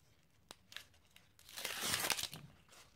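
Scraps of paper are pressed onto a handmade Christmas card: a couple of soft taps, then a close, crinkling rustle that swells and fades, with no voices.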